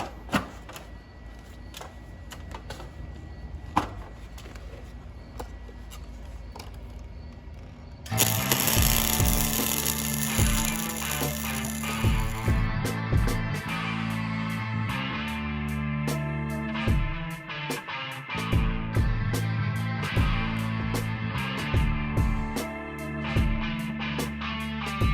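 Welding a spindle rod onto the rear bumper of a Ford Excursion, with a steady crackling, sputtering arc broken by rapid clicks and taps, loud and close, alone without talk.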